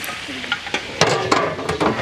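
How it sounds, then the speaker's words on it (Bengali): Pieces of meat for a roast fry in hot oil, making a crackling sizzle broken by sharp clatters and scrapes of stirring in quick, irregular bursts, close by, with no talk. "এটাকে চমৎকারভাবে তেলে ভেজে নিতে হয়"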